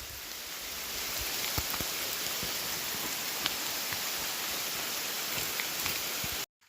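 Hail patters down steadily in a canyon creek setting, a dense even hiss of many small impacts with scattered sharper ticks, loud and close, running continuously before cutting off abruptly at the end.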